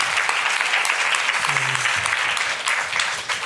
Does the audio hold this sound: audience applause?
yes